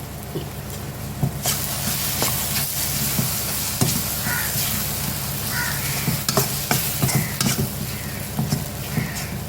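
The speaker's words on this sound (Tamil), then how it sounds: "வெங்காயம் தக்காளி பழம் எல்லாமே நல்லா வதங்கி எண்ணெய் மேலே பிரிஞ்சு வருது பாருங்க" Prawn thokku masala of onion and tomato sautéing in oil: a loud, continuous sizzle and crackle close up, with stirring scrapes scattered throughout.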